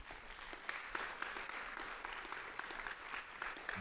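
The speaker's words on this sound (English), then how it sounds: "I will give them a hand or a round of applause again" Audience applause rises for camp mentors at a fall new student orientation, a steady wash of clapping from many hands that holds for several seconds at moderate distance.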